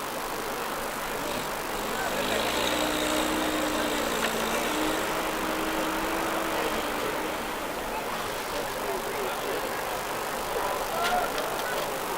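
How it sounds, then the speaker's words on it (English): A Gardner-powered ERF tipper wagon at a road run, its diesel engine giving a steady low rumble with a gliding tonal whine mid-clip, amid outdoor crowd and traffic noise. "Gardner-powered ERF tipper wagon."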